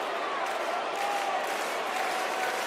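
WWE 2K25 wrestling arena crowd cheers and applauds in a continuous, steady roar of clapping and crowd noise, loud and even throughout, with no clear talk over it.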